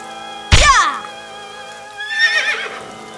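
A loud, synthetic merry-go-round horse whinny from the video game AI: The Somnium Files bursts out, followed a moment later by a softer, quavering second neigh, like a cartoonish game sound effect.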